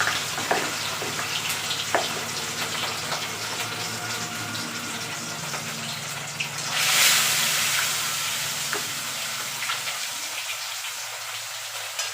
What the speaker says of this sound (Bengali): আমার চপ খেতে গিয়ে পাশে তেল জ্বলে যাচ্ছে।